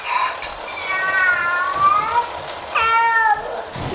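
A baby's voice imitates a cat's meow, giving a long, wavering meow followed by a shorter, higher one a moment later, close and clear over quiet room noise.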